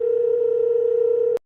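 A steady telephone call tone hums for about a second and a half, clear and unbroken at an even level before cutting off abruptly.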